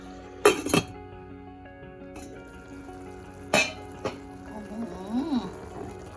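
Metal clinks as a lid goes onto a cooking pot of Isan-style steamed glass fish, with several sharp knocks and rattles, close and fairly loud, over a low kitchen hum and faint bubbling.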